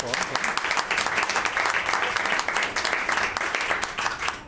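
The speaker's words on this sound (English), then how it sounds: "And yes, applaud." Quiz bowl audience applauding the event's helpers, a steady, dense burst of many hands clapping that continues at an even level throughout before easing off slightly at the end.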